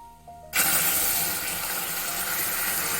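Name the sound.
water being poured into pan for balish mishti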